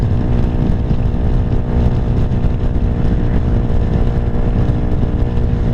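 Venom SS3 (KP mini 150) motorcycle cruising in 4th gear at about 59 mph on an interstate, a steady close engine drone with heavy wind rush throughout, no voices.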